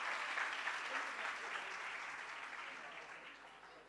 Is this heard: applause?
yes